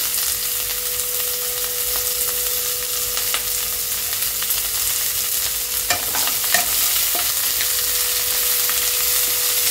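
Chopped onion and crushed garlic fry in a pan for bhindi masala, a loud steady sizzle with occasional spatula scrapes as they are stirred.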